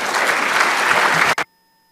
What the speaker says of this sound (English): So with your applause, would you please welcome Prime Minister Gonzalez